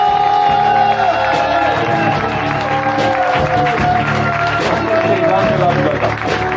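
Concert audience applauding and cheering, a thick continuous roar of clapping and shouts, loud and steady, with a held musical tone ringing beneath.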